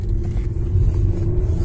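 A Toyota Camry with a 3-litre engine hums and rumbles steadily on a test drive, a low continuous drone heard close with no talk over it.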